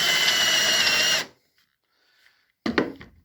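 A power drill with a Forstner bit bores into a block of wood during a fretless PJ bass build, a loud steady whirring grind that stops abruptly, then after a quiet pause a short burst of handling clatter.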